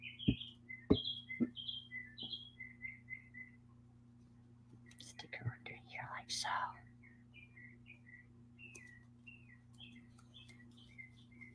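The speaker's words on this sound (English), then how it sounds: "Can you hear the birds?" Birds chirp outdoors in short repeated tweets and whistles, fairly faint and steady, with a few louder knocks and a brief rustling burst near the middle.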